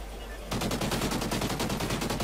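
Rapid automatic gunfire from a Call of Duty: Ghosts multiplayer match bursts in after half a second of quiet and keeps hammering loudly and densely to the end.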